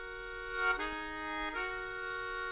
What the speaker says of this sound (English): play chords on the melodica